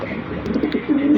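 An American giant runt pigeon gives a short, soft, low cooing call up close, with a few breathy pulses and no other sounds around it.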